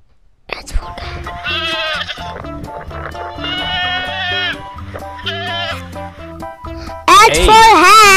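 Several loud, wavering goat bleats in a row, separated by short pauses, the last one especially strong and close.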